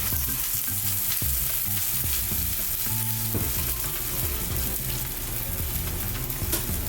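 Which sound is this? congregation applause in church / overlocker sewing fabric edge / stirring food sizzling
stirring food sizzling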